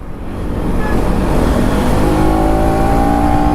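A 2025 KTM Duke 250 motorcycle engine roars loud and close, revving steadily higher as it accelerates in fifth gear, with a brief dip suggesting a quick-shifter gear change.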